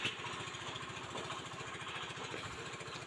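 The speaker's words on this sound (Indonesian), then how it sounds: "yang digerakkan oleh mesin diesel 175, mesin diesel yang bermerek apa itu ya" A Chinese Dongfeng 175 single-cylinder diesel engine runs steadily at a blacksmith's forge, its fast, even thumping pulse continuous and fairly loud throughout, with no talk.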